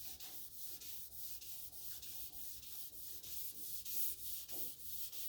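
Wet sanding on the case of an old Steinway piano, with a quiet steady rasping rub repeating in back-and-forth strokes about once a second, close and alone.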